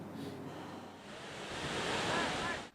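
Ocean surf at Riting beach in Lepung, Aceh Besar, during a surfing competition, heard as a steady washing roar that swells louder toward the end and is mixed with wind buffeting.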